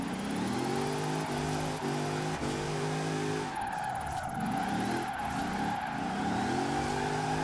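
Mercedes X-Class pickup truck in Forza Horizon 4 sliding sideways with repeated long tire squeals over a steady engine drone, loud and close, with no voices.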